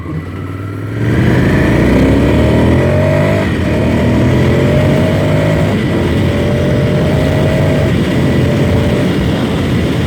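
A Ducati Scrambler Desert Sled motorcycle at speed on a dirt track, its engine droning loud and steady with rising and falling pitch as it runs fast, joined by wind and road rumble throughout.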